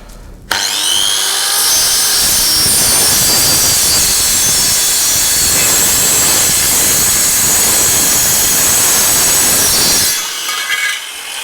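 A power tool saws through a square of aluminium while fitting out a fishing boat, a loud, steady, close grinding cut with a bright whine that runs continuously for about nine seconds before stopping abruptly.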